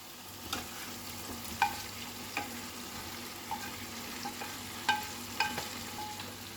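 Paneer cubes and capsicum sizzle steadily in a kadai of spiced yogurt masala, with a utensil scraping and tapping the pan every second or so, close and alone.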